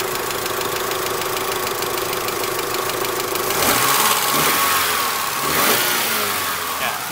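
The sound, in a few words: Mitsubishi Galant VR4 engine running with cooling fan on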